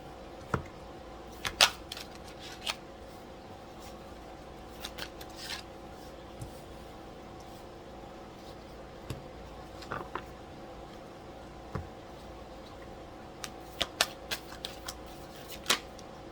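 Soft, scattered riffling and tapping of tarot cards being shuffled, with occasional sharper snaps over a quiet background.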